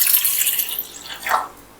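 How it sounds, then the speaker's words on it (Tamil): Water pours into a drinking glass in a home kitchen for a short moment, a bright splashing hiss that rises slightly in pitch as the glass fills, then trails off. "இப்போ ஒரு கிளாஸ் தண்ணி எடுத்துக்கலாம்"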